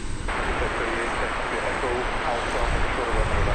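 An airliner takes off from runway 18 left at DFW Airport in Texas, a heavy continuous jet roar holding steady and loud throughout, with a voice faintly present in the background.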